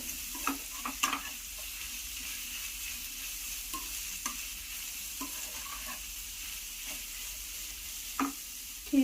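Chopped capsicum and carrot fry in a pan for egg fried rice, giving a quiet, steady sizzle broken by occasional scraping stirs and light clinks of a spatula.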